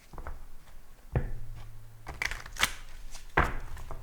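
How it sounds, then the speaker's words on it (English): Tarot cards are shuffled in several quick riffling bursts, close up, with soft taps and shuffles in between and no talking. "Shuffle a little bit."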